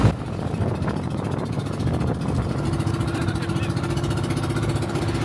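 A boat engine runs at Bantayan Island's port, a steady mid-pitched drone that settles into an even, continuous hum with no voices.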